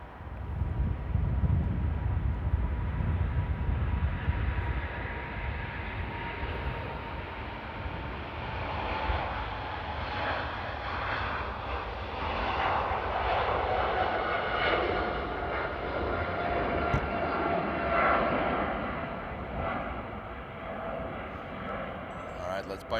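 A Boeing 777 jet airliner roars steadily as it passes at Paris Charles de Gaulle Airport, its engine whine shifting over time, with faint voices murmuring underneath.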